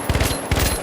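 Two rapid bursts of gunfire from a new weapon in the shooter game The Finals, each a quick string of sharp shots, loud and close with a short gap between them.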